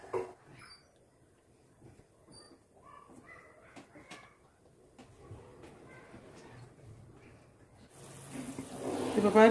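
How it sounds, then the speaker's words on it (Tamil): Salted water with a spoonful of ghee in a pot on a stove, heated for kozhukattai dough, builds near the end into a loud, rushing, bubbling boil after a quieter stretch of kitchen clinks and occasional talk. "இப்போ பாருங்க, தண்ணி நல்லா கொதிக்க ஆரம்பிச்சிடுச்சு."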